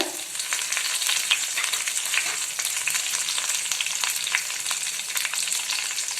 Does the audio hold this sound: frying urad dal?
yes